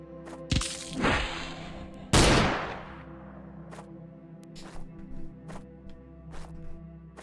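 Two loud, sharp gunshot cracks in a video game early on, the second booming and decaying, followed by fainter repeated pops over a steady background hum.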